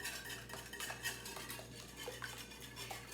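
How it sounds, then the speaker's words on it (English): A new whisk beats milk and cream (half and half) in a bowl, with quick, rhythmic metallic scraping and tapping strokes, close and fairly quiet, with no talking. "I love this new whisk I got."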